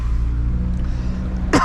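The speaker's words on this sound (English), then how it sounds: "Cough, cough." A single harsh cough from a man out scrapping at a dumpster, a short burst near the end over a steady low engine-like hum.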